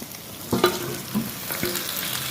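Fish heads fry in hot oil with an even sizzle, broken by a few sharp clatters of a spatula or spoon against the pan, close by and without speech.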